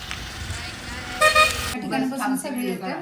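A four-wheeler car arrives with a short double horn toot, followed by nearby voices talking over the low hum of the vehicle.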